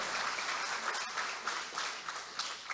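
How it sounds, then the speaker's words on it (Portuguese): A church congregation applauds in a steady, sustained wash of clapping that swells in faint waves, heard from a distance and fairly quiet, with no speech over it. "Quem aplaude o Senhor Jesus aqui?"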